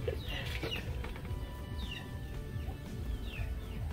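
Chickens cluck and squawk outdoors on a rural farm, several scattered calls over steady background noise, with no talking.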